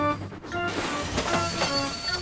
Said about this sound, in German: Der große Zug fährt sehr schnell.